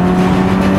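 Engine of a 1980s Ferrari 328 GTS, loud and steady as it revs under load at speed, heard close and continuous with no talk.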